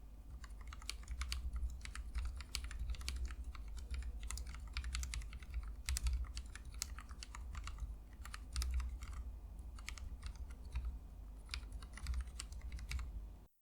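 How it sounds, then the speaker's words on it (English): Someone types steadily on a 5-column Charybdis wireless keyboard fitted with lubed Cherry MX Black Hyperglide switches, a close run of fast, even keystroke clacks with short pauses and no voices. "Here's a typing test on his 5-column build."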